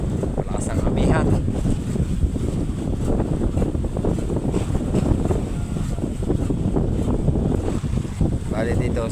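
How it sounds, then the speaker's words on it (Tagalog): Strong northeast monsoon wind buffets a boat at sea, a continuous loud roar with microphone gusts and water wash, with voices talking intermittently over it. "Malakas ang amihan."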